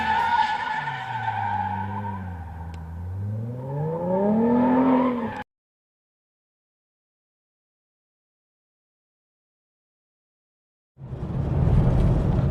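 A car fitted with a Borla exhaust system revs loudly and close, the engine pitch sweeping up and down with a tire chirp. It cuts to silence, then another loud burst of engine noise arrives at the end.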